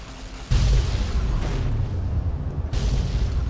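A large explosion in the video game Fallout New Vegas, a sudden loud boom that kicks in after a brief lull and holds as a heavy rumbling roar, dipping briefly before surging again.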